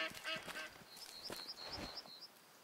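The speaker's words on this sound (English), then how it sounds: "Duckies." Ducks in the Way of the Hunter hunting game quack and honk in a rapid, irregular series, fairly faint, over a soft outdoor ambience.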